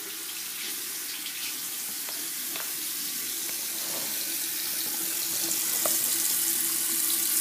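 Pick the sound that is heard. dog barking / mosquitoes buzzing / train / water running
water running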